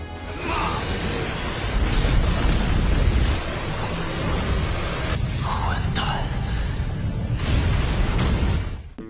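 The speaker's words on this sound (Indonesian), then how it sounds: "Ketika ledakan besar itu membenamkan tubuh musuh di dalamnya" A huge, roaring explosion rumbles on and on, dense and loud, with sharper bursts and cracks breaking through the sustained blast.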